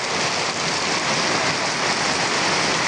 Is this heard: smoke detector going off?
no